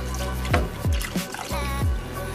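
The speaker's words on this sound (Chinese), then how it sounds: "倒水进去" Water splashes and glugs as it is poured into a soup pot of borscht ingredients, several distinct pouring bursts in quick succession, close and clear.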